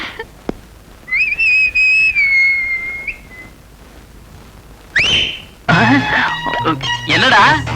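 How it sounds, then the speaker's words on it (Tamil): A person in an old Tamil village film gives a clear, loud, sustained whistle lasting about two seconds, then a second sharp whistle later, followed by other busy sounds. "என்னடா விசில் விசில் எல்லாம் பொறி பறக்குது?"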